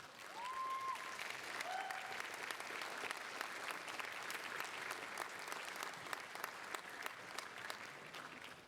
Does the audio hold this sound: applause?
yes